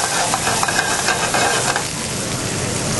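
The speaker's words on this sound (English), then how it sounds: "And I'm going to throw in my blanched haricot verts." Blanched haricots verts and cooked fingerling potatoes sizzle in herb butter in a restaurant kitchen pan, a steady close frying hiss with light stirring scrapes throughout.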